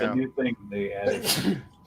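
Someone sneezes once, sharp and close, right after a person speaks briefly.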